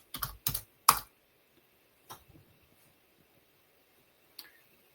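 A few quick clacks on a computer keyboard, a short cluster of keystrokes followed by sparse isolated taps in a quiet room.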